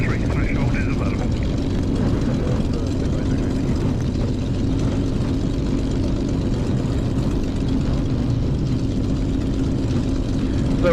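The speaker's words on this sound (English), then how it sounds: "So like I say, we taxi out. We just need to do a quick engine run before we go." A light propeller aircraft's engine rumbles steadily and loudly while taxiing toward the runway 03 threshold, a constant low drone throughout with no break.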